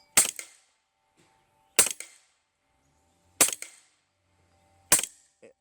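Four sharp, fairly loud shots ring out from an LCS Air Arms SK19 .30 caliber PCP air rifle, spaced about one and a half seconds apart, each a crisp crack with a short tail.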